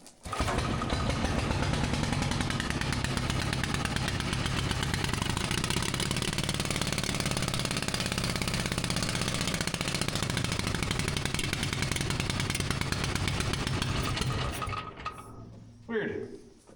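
An old pony engine runs steadily with a loud, continuous mechanical chugging and clanking for about fourteen seconds, then cuts out abruptly, with a brief sputter near the end. Voices are faint under the noise.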